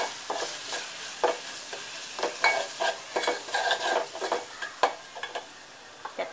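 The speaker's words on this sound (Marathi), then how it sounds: "छान आपण मिक्स करून घेऊया।" Dal palak with garam masala and fresh coriander is stirred in a pan, a spoon scraping and clacking in irregular strokes over a soft sizzle, close and clear with no talking.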